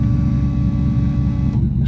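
A loud Bosch 044 fuel pump on an all-wheel-drive Honda Civic conversion whirs with a steady, close, droning hum that holds evenly before cutting off abruptly near the end.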